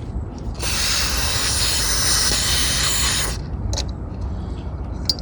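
Degreaser sprayed all around a dirty Tecumseh lawn mower carburetor, one steady close hiss lasting nearly three seconds, followed by faint handling noises.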